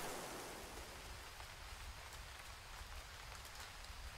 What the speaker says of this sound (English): it's not raining nearly as hard there